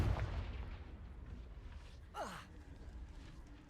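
Confringo fire spell cast in Hogwarts Legacy, a brief whooshing burst with a falling sweep, heard once midway over a quiet, low rumbling background.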